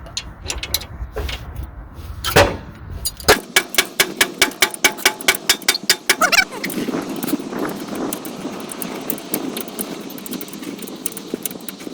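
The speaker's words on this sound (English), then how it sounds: "I take out the screw out right here" A brake caliper screw comes out on the rear brakes of a Ford Grand Marquis, heard as a quick run of rhythmic ratcheting clicks from a hand tool, close, between duller handling knocks.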